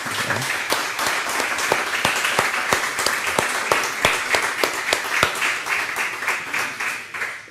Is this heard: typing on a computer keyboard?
no